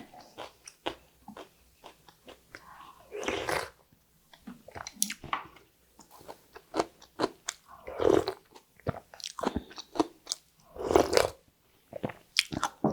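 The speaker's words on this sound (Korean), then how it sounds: "깍두기가 지금 했지만 가을무가 원래 달고 맛있잖아요. 아삭아삭하니 아주 맛있답니다." Someone bites into crisp kkakdugi, cubed autumn radish kimchi, and chews it up close, with loud repeated wet crunches in an irregular rhythm separated by short quiet gaps.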